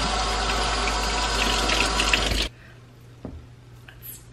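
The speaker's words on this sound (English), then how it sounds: "Let's get washing." Tap water runs loudly and steadily for a couple of seconds while food is washed in a college kitchen, then cuts off abruptly, leaving a quiet room with a faint hum and a small knock.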